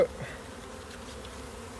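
Honey bees buzz steadily around a hive while a nest box colony is transferred into a ten-frame hive, a soft continuous drone that stays even throughout.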